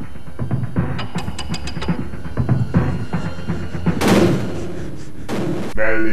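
Close-range gunshots in a Terminator film, several sharp loud blasts in quick succession over mechanical rumbling, with a robotic voice speaking in between.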